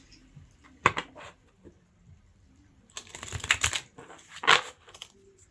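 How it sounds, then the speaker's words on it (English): A deck of playing cards being shuffled thoroughly, heard as two bursts of rapid riffling clicks separated by quieter card handling, fairly close and with no talking. "We shuffle thoroughly."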